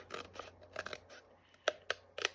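Scissors snip a notch into the paper binding of a memo pad, a few quiet crisp cuts and rustles close by, with short sharp snips near the end.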